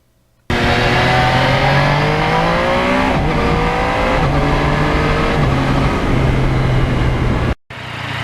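A 2020 Yamaha MT-09 naked motorcycle revs hard while riding, its engine climbing through repeated gear shifts with a loud, close, continuous roar before cutting off abruptly near the end.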